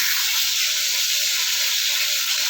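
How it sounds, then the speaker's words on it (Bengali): A piece of hilsa fish fries in a pan, giving a steady, even hiss of sizzling oil that holds at one level throughout, close and with no talk. "এই পিসটা একটু এরকমভাবে ভেজে নেবো, ঠিক আছে, বেশি কড়াও ভেজে নিই।"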